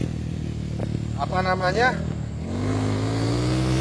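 Talking up close, then a special-engine motorcycle's engine revs upward as the throttle opens and settles into a rising drone.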